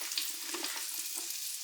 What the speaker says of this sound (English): So I've got butter in the frying pan, and I'm gonna fry these sweet potatoes